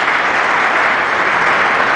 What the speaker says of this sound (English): A big applause, Howard Lettinga.